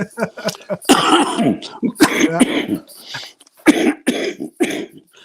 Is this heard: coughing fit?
yes